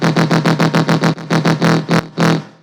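A heavy dubstep wub bass patch built from sine waves pulses in a steady rhythmic wobble, loud and distorted, ending with a few uneven longer hits.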